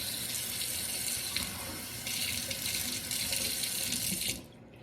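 Water runs steadily into a 2-cup stovetop espresso pot, a continuous close splashing stream that stops abruptly near the end.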